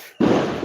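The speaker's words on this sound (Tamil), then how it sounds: "டைமண்ட் வெடி எப்படி இருக்குன்னு பாரு" A diamond firecracker goes off with a sudden sharp burst, then a sustained loud crackling hiss that fills the rest of the moment.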